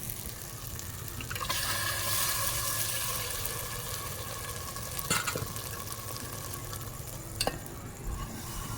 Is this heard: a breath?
no